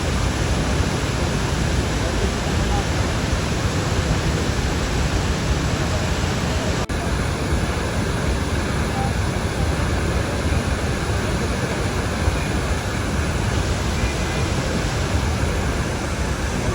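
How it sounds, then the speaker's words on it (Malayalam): Roaring Athirappilly waterfall in Kerala, a dense, steady broadband rush of falling water that stays loud and unbroken throughout with no voices over it. "നിങ്ങൾ ഈ വെള്ളച്ചാട്ടം ഒന്ന് ആസ്വദിക്കുക"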